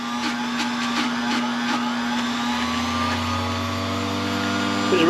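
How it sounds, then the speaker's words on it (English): Buffing wheel spinning steadily as a Texas mesquite wood ring is polished with Zam compound, a continuous motor hum with a whining tone that shifts slightly in pitch partway through. "Then get them on the buffing wheel"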